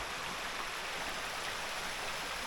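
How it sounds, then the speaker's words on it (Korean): A cool mountain valley stream on Jogyesan flows in a steady, even rush of water, faint and unbroken, with no voices. "아, 시원한 계곡 물소리 좋습니다."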